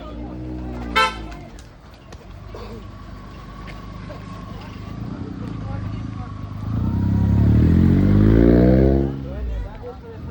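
Car horns toot in a village street, one sharp honk standing out near the start, with vehicle engine rumble swelling later as traffic passes and voices murmur in the background.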